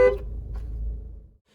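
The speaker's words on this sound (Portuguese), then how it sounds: "vamos ver como é a buzina de um Renegade Sport" A single horn blast from a 2024 Jeep Renegade Sport SUV, loud and close, held for about a second and a half before cutting off into silence.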